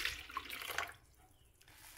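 Water pours into a stand mixer bowl holding coffee and sugar, a brief faint splashing trickle that stops partway through.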